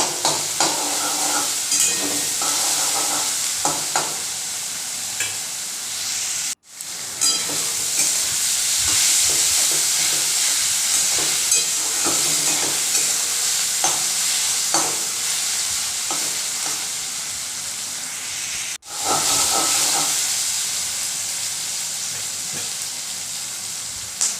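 Sliced onions fry in oil with a constant loud sizzle as a spatula stirs and scrapes the pan over and over, close up and without pause, ahead of adding marinated chicken for a white sesame chicken dish.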